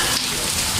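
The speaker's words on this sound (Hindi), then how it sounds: "फुल तेज़ बारिश हो रही है, बहुत प्यारा मौसम है।" Heavy rain pours down in a dense, continuous loud hiss, steady and close, with no talk over it.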